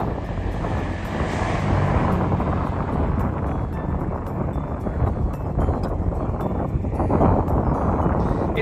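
Aircraft flying overhead in tight, synchronized formation above a Saskatchewan highway in summer make a sustained, loud roar, heavily mixed with wind buffeting the microphone, with no talking.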